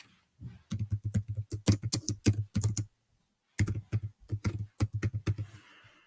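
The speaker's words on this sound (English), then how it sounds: "I can type my response." Quick bursts of typing on a computer keyboard, close and clear, with rapid key clicks, a pause of about a second, then another run of keystrokes.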